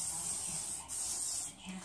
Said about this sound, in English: I'm spraying it now just to give it a little life